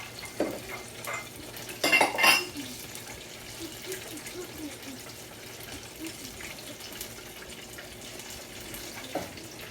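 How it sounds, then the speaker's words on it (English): A whisk scrapes and stirs pumpkin oatmeal porridge in a pot, a busy wet clatter up close with a louder burst early on, then steady softer stirring. "Whisk it, whisk it. Whisk it in."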